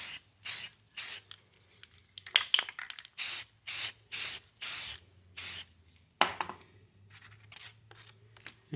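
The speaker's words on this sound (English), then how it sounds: "Different can of spray paint." Short hissing bursts from a spray can, about a dozen quick sprays in an uneven rhythm, close and loud with brief quiet gaps between.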